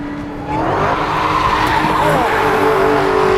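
A Dodge Hellcat braking hard with its tires skidding, a loud sustained screech that starts abruptly and holds strong over a rough rumble, close and intense.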